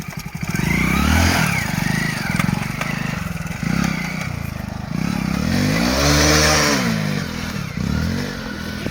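A 2020-model motorcycle engine revs hard and continuously near a pond, the pitch rising and falling in repeated surges, loud and close throughout, with some clatter and no clear talk.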